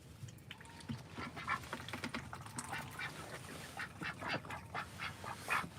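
Backyard ducks at feeding time give a busy run of short, overlapping quacks, fairly close and steady throughout, with no talking.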